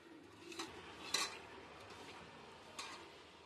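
Raw prawns being mixed with salt and turmeric in a bowl, soft quiet stirring with a few light clinks and scrapes of a spoon, sparse and close.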